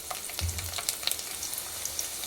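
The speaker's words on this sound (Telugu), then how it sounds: "రెండైతే ఎల్లుల్లి రెబ్బలు వేసుకుంటున్నాను" Two garlic cloves sizzle and crackle in hot tempering oil in a pan, a close, steady frying hiss dotted with small pops and a few utensil taps, with no voices.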